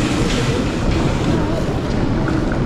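A train rumbles past at a Birmingham station, a dense, loud, steady roar with faint clattering throughout, close by and continuous, with some voices mixed in beneath.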